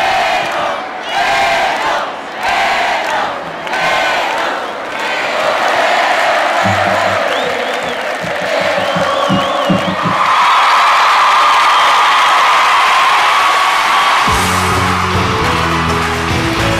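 A huge stadium crowd roars and cheers throughout a concert, a dense sustained wall of voices with rhythmic chanting swells, whoops and yells, loud and close, with some low musical beats entering partway through.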